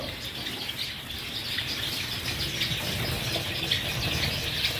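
White Java sparrows in breeding cages chirp and tweet continuously, a soft, busy chatter of many small birds at moderate distance over faint background noise.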